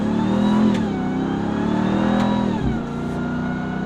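A 2022 RAM TRX pickup in Baja mode accelerates hard, its engine roaring loud and close with the pitch climbing, briefly dropping at a shift, then pulling again.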